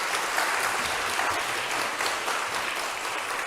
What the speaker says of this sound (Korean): 박수로서 맞이해 주시면 고맙습니다.